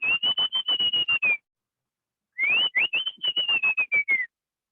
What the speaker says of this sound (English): So this is the bicolored ant bird, and this is one of the birds that we hope to hear